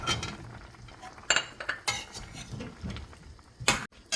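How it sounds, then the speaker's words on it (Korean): Potatoes tumble into a pot of soy-sauce braised chicken with shishito peppers, giving a few sharp clatters and splashes over a low simmering sizzle, fairly close and with no talk. "감자 넣겠습니다"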